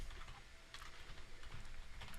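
Computer keyboard being typed on at a developer's desk, a quiet rapid patter of key clicks in irregular bursts, close but faint, with no talking.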